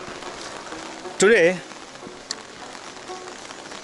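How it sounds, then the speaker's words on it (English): Morning rain in Dharamshala falls in a steady, moderate hiss, with a brief spoken word from a nearby voice partway through. "it's raining."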